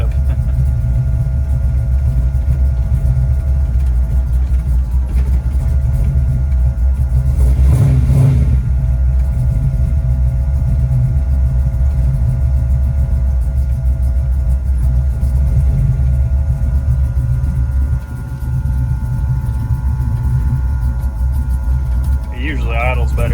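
A 1969 Ford F100 V8 runs at a rough, loud idle close by, a continuous low rumble with one brief swell partway through and a slight dip near the end.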